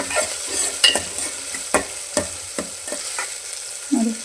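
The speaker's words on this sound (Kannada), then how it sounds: "ನೋಡಿ, ಚೆನ್ನಾಗಿ ಫ್ರೈ ಆಗ್ತಾಯಿದೆ." Chopped onions frying in a pan for lentil sambar, a continuous sizzle broken by regular sharp scraping strokes of a spoon stirring, close and clear with no talking.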